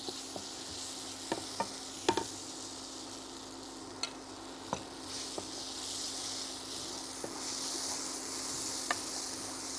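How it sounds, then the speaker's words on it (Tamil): Kasuri methi is sautéed in a pan while it is stirred without stopping, making a soft, continuous sizzle with occasional light scrapes and clicks of the spoon. The sound is quiet and close, and no one speaks. "கை விடாமல் அது வதக்கணும் இல்லைன்னா அது அடிபிடிக்க ஆரம்பிச்சிடும்"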